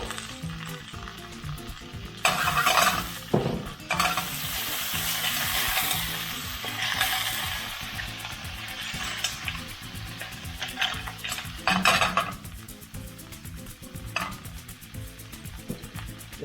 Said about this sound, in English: Cook a little bit, don't want to cook them too much because the garlic will start to catch.